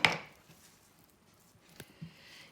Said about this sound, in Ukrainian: І нарізаємо м'ясо і кладемо, щоб воно нам смажилося.